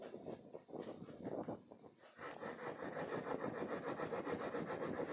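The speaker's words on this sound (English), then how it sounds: "First, we will use an orange crayon." An orange crayon rubs back and forth across paper in steady, scratchy strokes, close and fairly quiet, turning into a continuous rasping scribble partway through.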